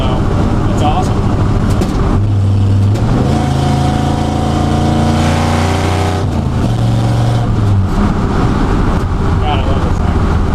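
A daily-driven car's engine runs loud and close, revving up and holding steady tones before dropping back, with a voice talking over it.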